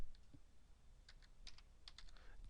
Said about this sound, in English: I'm actually going to type the word revenue.